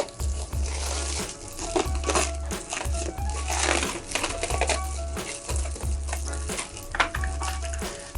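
Scissors or tin snips cut through flexible ducting for a grow tent, giving a steady run of crinkling, crunching snips with repeated rhythmic cuts, close and fairly loud, with no talk.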